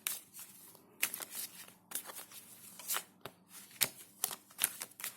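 Tarot cards being shuffled close up, with repeated bursts of crisp riffling and flicking separated by short pauses.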